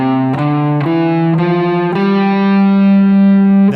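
A distorted electric guitar plays single notes of the Dorian mode starting on G, five or six picked notes climbing step by step, each ringing on with sustain, loud and alone.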